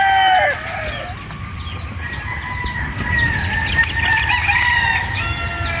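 A backyard bloodline rooster crows loudly and close by, its long calls layered with other fowl crowing and clucking in the background, with no one talking.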